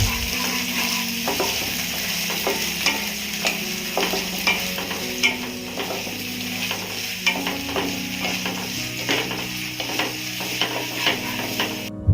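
Onions sizzle and fry in a pan with steady crackling, punctuated by frequent scraping taps of a stirring utensil; no voices.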